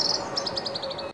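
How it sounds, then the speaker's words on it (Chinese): Birds chirp in a quick run of bright, high tweets, close and clear over a faint background hum, then cut off abruptly. "鸟叫声悦耳响亮"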